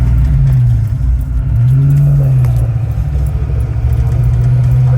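A Ford Fox Body Mustang reeking of gasoline pulls away, its engine a steady loud drone that rises in pitch as it accelerates, with faint rattling over the top.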